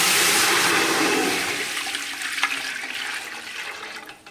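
Water pours in a steady, loud rush into a heated aluminium pot, enough to match the volume of wheat starch extract for kurdai, then tapers off to a softer trickle.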